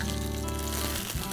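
Chopped red capsicum sizzles in a hot pan on turned-down heat, a steady close frying crackle throughout with a slight shift near the end, and no voices.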